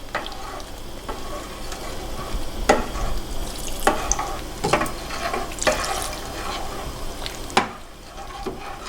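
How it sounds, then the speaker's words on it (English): A spoon clinks and scrapes through crab and asparagus soup in a pot in irregular strokes as cornstarch water is poured in, with soft sloshing and a gentle simmering hiss underneath. "you want to pour and mix at the same time."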